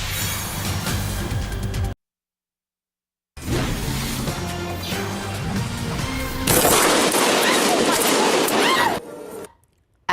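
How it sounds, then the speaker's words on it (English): Recorded gunfire during a shooting at a Houston megachurch, loud rapid bursts of shots with a sharp cut to silence, then more shooting mixed with crashing noise and panicked commotion. "That is the sound of gunfire and panic at a Houston megachurch earlier this month."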